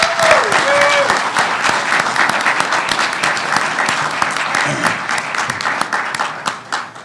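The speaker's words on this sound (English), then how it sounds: "let's give all of our speakers a round of applause." An audience applauds the speakers at an energy innovation pitch challenge, a dense, loud burst of clapping that holds steady for several seconds, with faint voices mixed in.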